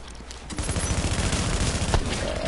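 Rapid bursts of gunfire from a shooter video game, a dense continuous rattle of automatic shots close and loud throughout, with no talking.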